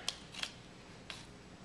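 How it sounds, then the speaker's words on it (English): Scissors snip open a blind bag toy package, three short crisp cuts spaced irregularly over a quiet background, close to the listener. "Snip, snip, snip, snip."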